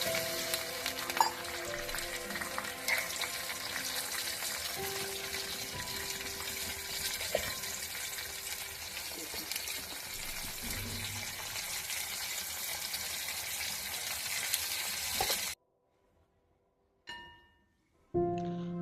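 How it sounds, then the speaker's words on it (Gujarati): A khandvi tempering of curry leaves, water, salt and sugar bubbles and sizzles steadily in a pan for a long stretch. It then cuts to near silence, broken by brief clatters. "હવે આપણો વઘાર બરાબર ઉકળી ગયો છે."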